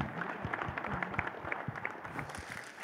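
Faint, scattered clapping from an audience at a blockbuster film celebration event in a hall, with uneven claps continuing for a few seconds.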